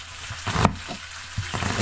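Eggs frying in a pan with sliced tomato and onion give a steady close sizzle and crackle, with a few brief stirring scrapes.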